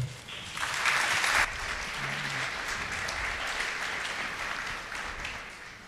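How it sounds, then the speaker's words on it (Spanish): A seated audience at an academic forum on access to information and freedom of expression applauds two introduced guests, a moderate wash of clapping that swells early and then holds at a steady, somewhat distant level. "Un aplauso, por favor."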